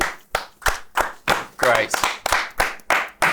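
Several people clap in a steady, rhythmic beat of about ten sharp claps, close and loud, with a voice briefly speaking over them.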